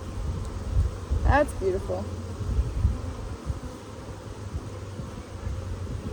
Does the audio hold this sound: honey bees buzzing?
yes